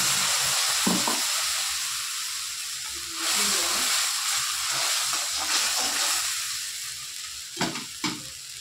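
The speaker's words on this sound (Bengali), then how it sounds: "এই মশলাগুলো আমি তেলের মধ্যে ঢেলে দেবো" Ground spice paste sizzling and hissing in hot mustard oil in a pan, with repeated scraping stirs and a couple of sharp clatters of the spoon against the pan, loud and close.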